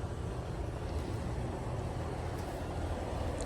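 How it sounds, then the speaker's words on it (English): An outdoor air conditioner unit next door runs close by beside a garden of basil plants, giving a steady, broadband whooshing drone with a low rumble, constant throughout and without speech. "We're right next to the neighbor's air conditioner,"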